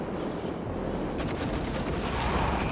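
Blue cannon fire in the video game Prey crackles in a dense burst of shots that grows busier and sharper toward the end, over a constant rumbling game background with no talk.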